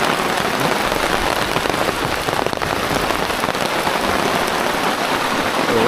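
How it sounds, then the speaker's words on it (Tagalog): Heavy rain pours down hard and close, a dense, continuous hiss of drops hitting surfaces that stays loud and unbroken throughout, with no voices. "Lumakas na ang ulan mga kabgoy."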